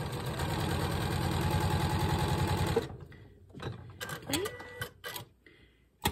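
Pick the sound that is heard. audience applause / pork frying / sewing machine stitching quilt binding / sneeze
sewing machine stitching quilt binding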